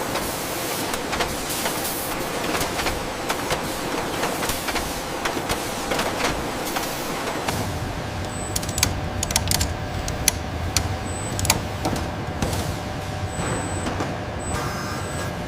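Robotic arms in a toothbrush factory's battery placement unit inserting batteries into toothbrush bodies, a dense stream of rapid clicking, clacking and hissing machine noise with short high tones over a steady industrial hum, loud and close with no talking.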